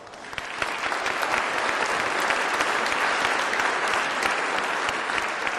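Audience at a sanitation department swearing-in ceremony gives parents, spouses and families a round of applause, steady dense clapping from a large room that holds strong throughout.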